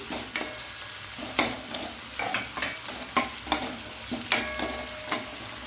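Onion frying in oil for a dhaba-style spinach dish, a steady close sizzle punctuated by a series of sharp spoon clinks and stirring scrapes against the pan, no talk.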